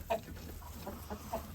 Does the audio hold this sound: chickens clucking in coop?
yes